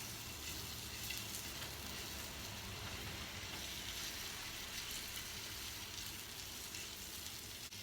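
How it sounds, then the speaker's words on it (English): Egg curry ingredients frying in a pan over a low flame, giving a steady, even sizzle with no talking throughout. "We'll just fry it for 2-3 minutes"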